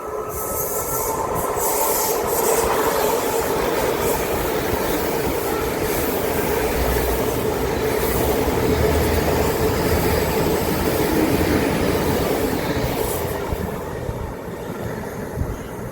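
An IET passenger train passes through the seaside station at Dawlish, a steady, moderately loud rumble of wheels on rail with some squeal and clatter lasting throughout, with no voices.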